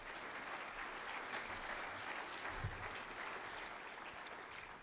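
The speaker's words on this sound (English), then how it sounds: "Some applause for those sponsors." An audience at a corporate farming policy summit panel applauds the sponsors, a steady, fairly soft wash of clapping that holds for several seconds from a distance.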